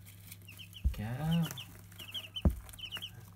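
Baby chicks cheep in repeated high, quick peeps throughout, close by, with a couple of sharp knocks and a brief voice-like sound in between.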